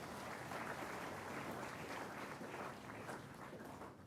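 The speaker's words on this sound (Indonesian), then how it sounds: "Tepuk tangan untuk Anda semuanya." Audience applause rises after a speech urging the younger generation toward future leadership, a steady, dense wash of clapping filling the room at even loudness throughout without pause.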